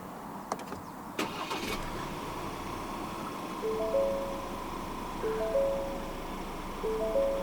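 A 2023 Ford Ranger 2.0 4x4 XLT Plus double cab starts by push button. A few soft clicks lead into a brief crank, then a low, faint idle runs under a series of light electronic chime tones.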